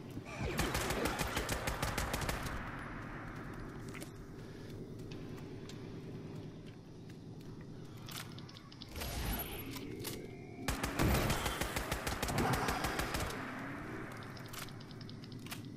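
Rapid bursts of video-game gunfire in a monster-hunting game, loud crackling volleys around the start and again near the end, with quieter scattered shots and ambient noise between.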